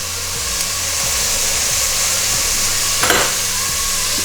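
Garlic sizzling in a hot pan alongside onions that are cooking for basmati rice, a steady loud frying hiss with a brief extra crackle about three seconds in, and no talking.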